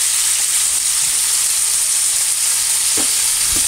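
Pancetta sizzles steadily in a cast iron pan while being moved around, a continuous bright frying hiss with a couple of soft scraping knocks near the end, close and alone.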